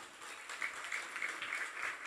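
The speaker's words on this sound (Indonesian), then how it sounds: "Alhamdulillah, tepuk tangan dong." Faint, brief clapping from an audience at an Islamic boarding school graduation with a wayang santri puppet performance, light scattered hand claps over a soft background hiss.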